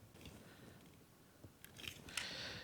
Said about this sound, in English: You want to cut the tag end off.